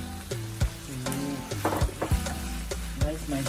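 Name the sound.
vegetables frying in a pan for spaghetti bolognese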